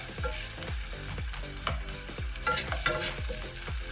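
A whole white onion sautés in hot oil, a steady close sizzle broken by regular scraping stirs about every half second.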